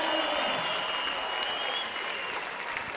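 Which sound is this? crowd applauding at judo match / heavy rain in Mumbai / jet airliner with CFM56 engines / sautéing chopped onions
crowd applauding at judo match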